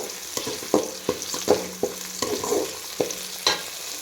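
Onions frying in a pan with turmeric while being stirred, a soft steady sizzle broken by repeated sharp scrapes and knocks of a spoon against the pan, close and with no voices.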